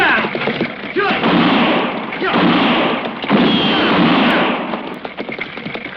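Gunfire in an old-time radio western drama, a rapid volley of shots and booming blasts that runs continuously under shouting voices.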